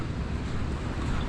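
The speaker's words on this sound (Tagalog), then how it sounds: "May alon." Sea waves wash steadily at the shore near Lemery, a constant broad roar mixed with wind buffeting the microphone, with no distinct breaks.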